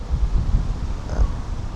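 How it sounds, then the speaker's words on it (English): Gusty wind buffets the microphone in low, uneven rumbles, with a faint higher whine briefly appearing in the middle. "it gets windy. The wind gets much stronger."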